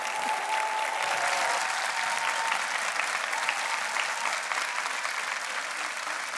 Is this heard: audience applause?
yes